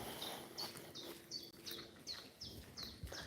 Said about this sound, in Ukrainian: О, тут гарно птахи співають, тут на початку особливо